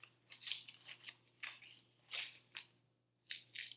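Scissors snip through a frozen paper label stuck to a bottle in a series of crisp, close cuts, several quick bursts separated by short pauses.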